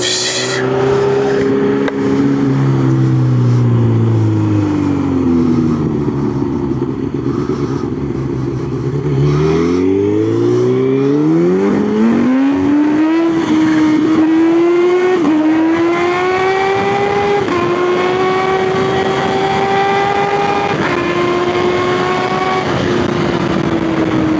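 A loud supercharged Kawasaki Z H2 naked motorcycle engine revs up through rising, whining pitches, drones steadily, then climbs again in strong sustained pulls.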